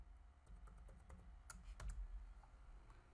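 A password is typed on a computer keyboard, a quick run of soft, close key clicks at low volume.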